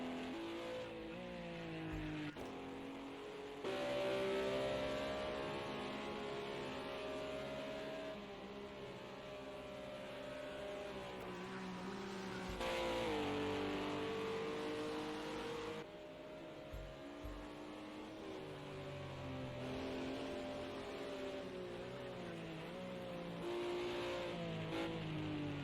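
GT4 race car in a racing game at Donington, engine revving hard through long accelerating pulls, with sharp gear-change breaks and repeated rises in pitch under a steady roar, no voices.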